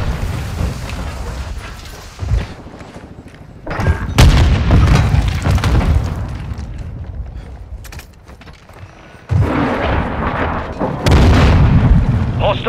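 Loud explosions and heavy booms from a military first-person shooter match in search-and-destroy mode, with a cruise missile strike. The blasts come in several bursts, rumbling and dense, under game sounds.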